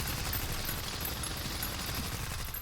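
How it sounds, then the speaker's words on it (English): Sustained automatic gunfire from a battle in the mobile game Girls' Frontline, a dense unbroken rattle of shots at steady loudness throughout, with no talking. "In the burst of gunfire"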